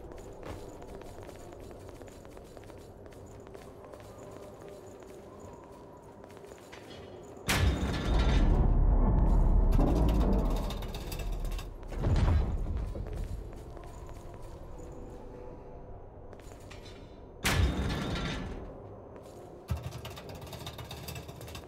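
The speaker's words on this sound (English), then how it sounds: "That was the sound of a ladder, wasn't it?" Ladder climbing in the action game Code Vein: two loud bursts of clattering, creaking mechanical movement, one long and one short, rising out of a quiet game ambience with no speech.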